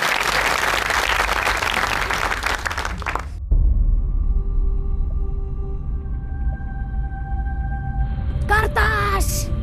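A comedy show audience bursts into loud applause for about three seconds, which cuts off abruptly into a low rumbling hum with tonal electronic sounds.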